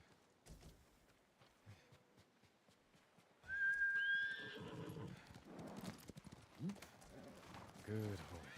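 In Ghost of Tsushima, a horse neighs with a high, drawn-out whinny, then snorts and stamps amid clopping hooves and scattered talk, fairly close and loud.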